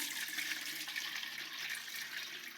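Water pours into a dry ice fog cylinder, making a steady, close rushing and splashing stream that holds an even level throughout with no talking.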